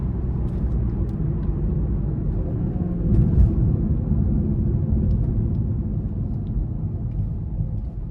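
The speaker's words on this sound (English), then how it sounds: "I'm gonna be able to give it a nice pull getting on the interstate here" A 2017 BMW 540i xDrive with all-wheel drive pulls hard up an interstate on-ramp, a steady low engine and road rumble heard from inside the cabin, swelling briefly midway.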